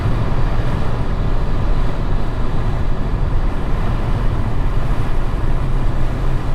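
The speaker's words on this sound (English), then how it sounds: "Got the sunroof open. I hope that doesn't give you too much wind noise." Loud, steady rush of wind buffeting through an open sunroof inside a moving Ford Focus ST, a constant low roar with road rumble and no speech.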